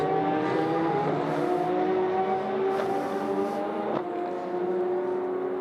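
A race car at the 6 Hours of Spa-Francorchamps endurance race screams past at high revs to complete a lap, its engine note sustained and loud with a sharp gear-change blip, commentary faint beneath.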